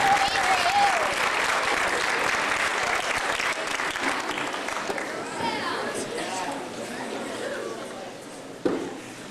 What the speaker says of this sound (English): Can we all give them a round of applause for walking from the inside to the floor?